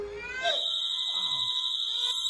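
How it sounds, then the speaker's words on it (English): A house alarm going off at night, a loud sustained electronic tone holding steady with bright harmonics, joined by a brief rising whine and some fainter background noise. "The alarm goes off and the door opens."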